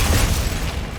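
Glacius ice spell cast in Hogwarts Legacy, a loud, dense burst with a deep booming low end that holds steady for about a second, rumbling like a blast of magical force.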